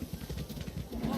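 Horse hooves clip-clop at a steady trot in Breath of the Wild, a rhythmic series of soft thuds carrying on under game sounds, with no speech over them.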